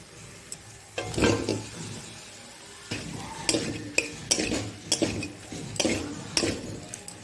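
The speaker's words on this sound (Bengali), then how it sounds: "এবার আমি ফুলকপি আর আলুটা দিয়ে দেবো" Cauliflower and potato go into a pan of fried spices including Kashmiri chilli, with a utensil scraping and clinking against the pan in repeated irregular strokes over a faint background, no talking.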